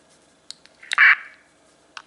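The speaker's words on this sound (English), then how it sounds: "there is a Roger beep on this" Sharp electronic roger-beep chirp from a GMRS two-way radio, a short rising beep burst around the middle, with a few faint clicks before and one after.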